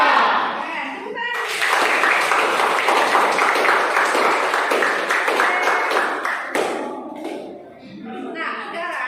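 Classroom students break into a dense, steady burst of rhythmic clapping as part of a group cheer, lasting several seconds before thinning out, with children's voices chattering over it.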